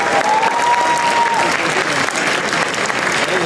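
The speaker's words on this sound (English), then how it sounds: "A round of applause for them." An outdoor crowd at a soccer day celebration in Toronto applauds the Canada soccer supporters group, a loud, dense, continuous burst of clapping and crowd noise, with a brief tone and voices mixed in.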